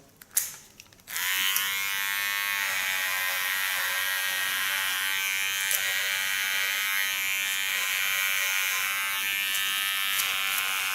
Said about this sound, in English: Put my blade to the back using my large Theo Knoop clipper.